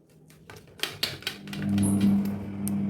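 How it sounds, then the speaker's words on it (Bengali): A knife cuts through a cabbage omelette, several crisp, close chops tapping on a board, then a louder, steady hiss takes over. "আমি এক্ষুনি কেটে নিচ্ছি এটাকে"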